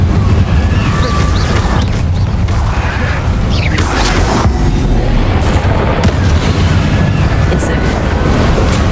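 Fiery Incendio spell casts in Hogwarts Legacy during a battle, loud dense whooshing bursts and booms that run continuously over a rumbling low end.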